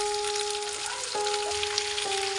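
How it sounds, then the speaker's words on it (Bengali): Dried mango sizzles and fries in a pan with five-spice as it is stirred, a steady close crackle with faint scraping. "আমগুলোকে দিয়ে এবার নেড়ে চেড়ে একটু কষিয়ে নিচ্ছি।"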